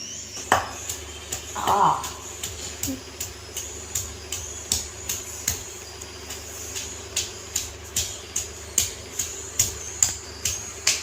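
Onion and tomatoes are pounded for dinner in a steady rhythm of close, dull thumps about twice a second, with a brief voice near the start.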